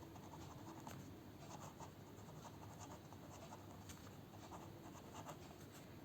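Pen scratching on paper while writing prime factors by hand, soft rapid strokes and taps, faint and close, with quiet room hiss and no talking.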